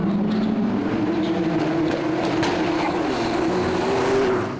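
A modified V8 rally car runs flat out on a 2008 Targa New Zealand stage: a loud, close, sustained engine roar that climbs steadily in pitch as it accelerates, with no voices.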